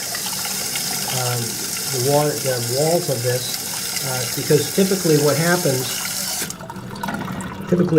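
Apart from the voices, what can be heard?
running toilet tank water draining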